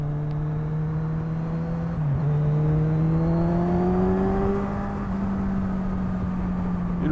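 A 2021 Yamaha MT-09 SP motorcycle engine hums steadily and climbs in pitch as it accelerates, with a dip partway through, heard up close throughout.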